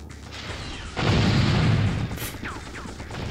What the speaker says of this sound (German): Und überall Explosionen.